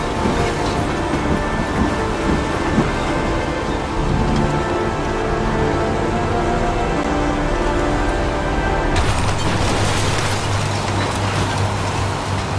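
Heavy rain pours steadily in the video game Heavy Rain, a dense continuous hiss and rumble that thickens and grows harsher near the end, with no talking.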